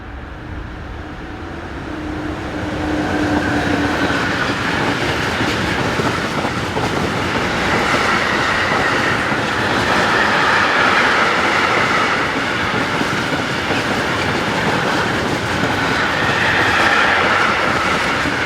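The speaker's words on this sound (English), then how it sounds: "Heading south is MRCE Dispolock High Loco number 182598." MRCE Dispolok electric locomotive heading south on a European railway: a loud, close passing train with steady rumble, wheel clatter and brief high squeal, building up and sustained throughout.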